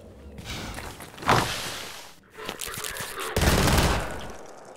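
A pulse rifle fires in Half-Life 2 played in Garry's Mod, giving loud bursts of rapid automatic fire that swell, pause briefly, then resume over busy game noise.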